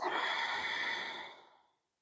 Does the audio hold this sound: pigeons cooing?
no